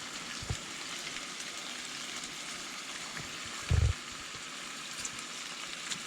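Four slices of bacon crackle in a pan at a campsite, a soft, steady sizzle with fine popping throughout, broken by one brief louder thump near the middle.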